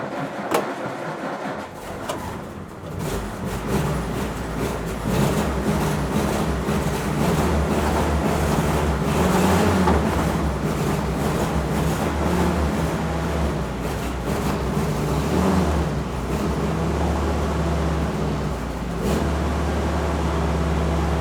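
A WW2 Jeep with a freshly rebuilt distributor and reset timing runs as a continuous, loud mechanical engine drone, close by in a shop, holding a steady idle for about twenty seconds.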